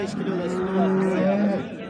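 A cow at a livestock market gives one long, drawn-out moo, close and clear, over a murmur of background noise.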